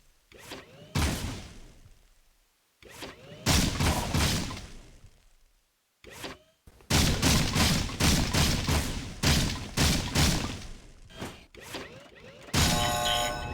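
Video game gunfire in Jak II comes in loud, sharp volleys: clusters of rapid shots separated by brief silences, with a dense sustained burst in the second half and a short electronic chime at the end.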